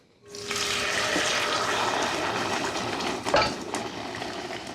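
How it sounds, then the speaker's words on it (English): Sauce is poured into hot oil in a pan and sizzles and splatters loudly and steadily for several seconds, with a clink of kitchenware near the end, while cooking Mexican food in Tijuana. "I need a spoon and I need the lid because it's gonna start splashing in 1 second."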